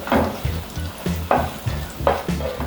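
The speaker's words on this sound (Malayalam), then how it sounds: "ഈ സമയത്ത് നമുക്കൊന്ന് ഇളക്കി കൊടുക്കാം." A spatula stirs egg frying in a pan for egg fried rice, with steady sizzling under rhythmic scraping strokes and a sharper clink roughly every second.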